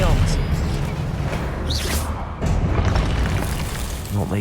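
Spells cast in the Hogwarts Legacy video game land as deep booming bursts and whooshing swishes over a dense background of game effects, with a voice talking through it.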